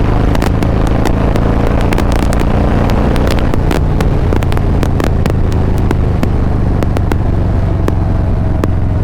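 A Harley-Davidson Fat Boy 107 cruiser roars steadily and loudly nearby with constant wind buffeting and rattling clicks, held at speed under throttle without shifting gears.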